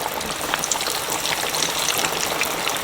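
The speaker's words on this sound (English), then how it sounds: "Now we're gonna let this fry for about 15 to 16 minutes." Flour-coated chicken pieces frying in hot oil give a dense, continuous crackling sizzle, loud and close, with fine popping spatter and no voices.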